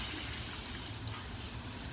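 Water gushes steadily into a cooking pot for rice, a continuous rushing pour heard up close and fairly faint, with no talking.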